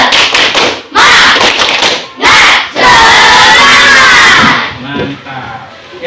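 Primary schoolchildren in a classroom shout the rhythmic 'tepuk semangat' clap chant, loud bursts of unison voices and claps separated by brief pauses, ending in a longer yell that fades into quieter chatter.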